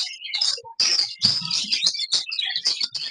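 Java sparrows at a bird market in North Karachi chirp and tweet in a dense, busy chorus of overlapping bright calls, close and fairly loud, with no talking.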